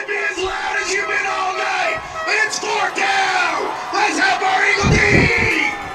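A football crowd at a high school game between Del City and Guthrie, cheering and yelling on a fourth down play, a loud sustained roar of mixed voices and whoops that swells toward the end.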